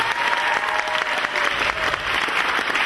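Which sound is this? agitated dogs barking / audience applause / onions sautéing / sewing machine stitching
audience applause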